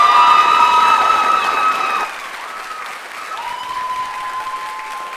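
Applause from a school graduation audience for scholarship and award recipients, fading after a couple of seconds into a quieter hall while sustained tones from a voice or instrument carry over it.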